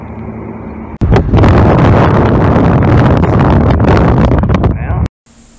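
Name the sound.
strong wind blowing by the Westgate Bridge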